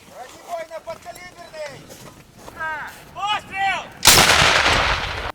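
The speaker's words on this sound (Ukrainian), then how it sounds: "працює з протитанковою гарматою МТ-12 Рапіра" An MT-12 Rapira anti-tank gun fires a single loud, close shot during military training in northern Zhytomyr region, a sharp blast with a long rumbling decay that follows several seconds of people talking.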